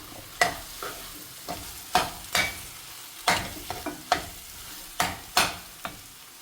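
A spoon stirs and scrapes through frying potato and paneer mixed with Kashmiri chilli and turmeric powder, giving sharp, repeated clacks against the pan at an irregular rhythm over a low sizzle, close and clear with no talking.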